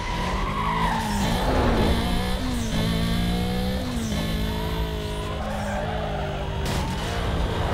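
Racing cars in Need for Speed: Most Wanted, with a steady engine drone, shifting revs and long tire skids and squeals that rise and fall, loud and continuous with no talking.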